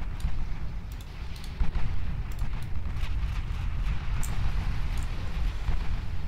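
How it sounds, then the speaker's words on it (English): The battleship Renown explodes in Ultimate Admiral Dreadnoughts after a 16-inch shell strikes her magazine: a dense, rumbling low roar with scattered crackling bursts, sustained and heavy across the whole stretch. "Renown blows up. 16 inch hit just took out the magazine."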